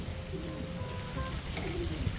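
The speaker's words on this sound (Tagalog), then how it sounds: "Yan, malakas na yung ulan." Heavy rain falling steadily, a dense even wash of noise with faint tonal sounds over it and no one talking.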